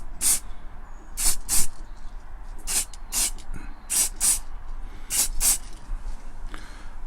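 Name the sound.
spray painting a model car part gloss white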